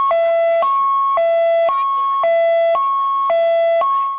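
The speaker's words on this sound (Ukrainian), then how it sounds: "Особливо діти облюбували спецсигнали." A police car's siren, switched on by children during a Christmas holiday event with police in Lutsk, wails loud and near in a steady two-tone pattern, alternating high and low notes about every half second for several cycles.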